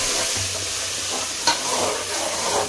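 Masala added to golden-brown onions frying in a pan for a black-eyed pea pulusu, giving a close, steady sizzle with a soft stirring scrape midway, no speech.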